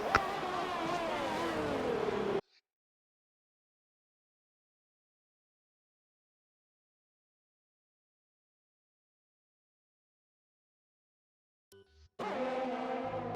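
Racing cars at the Zandvoort Dutch Grand Prix in a racing video game, with a droning, revving engine whine at the start and again at the end, separated by a long silent gap.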